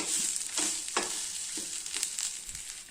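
Curry leaves sauté with salt in a hot pan, giving off a bright, continuous sizzle broken by a few scraping stirs of the spatula. The sound is close and loud, and no one speaks.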